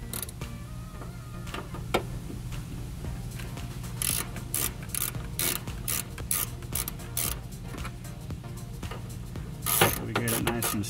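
Ratcheting wrench tightening the fuel pump plate screws on a 2006 Scion xB in a crisscross pattern, a steady run of close clicking ratchet strokes over a low background hum, with a sharper burst of clicks near the end.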